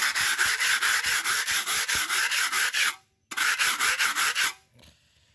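A drywall mud knife is sharpened with quick, rhythmic back-and-forth rasping strokes, loud and close, in a fast run that pauses briefly then resumes before stopping.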